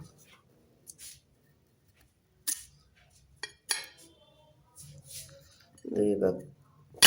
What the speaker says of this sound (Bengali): এখন আলুগুলো আমি একটা একটা করে কেটে নেব।